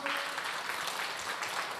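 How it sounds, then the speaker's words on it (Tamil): Crowd of children clapping hands at a church festival event, a steady dense patter of applause filling the whole moment, with faint voices mixed underneath. "எல்லோரும் ஒரு ஜோராக கை தட்டுங்க பார்ப்போம்."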